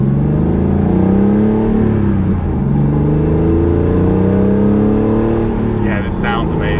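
An air-cooled Porsche engine drones from inside the car while driving, a steady low growl with rising and falling revs through gear changes, loud and close, and people talk over it.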